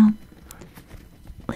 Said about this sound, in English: listen to the rain and close your eyes.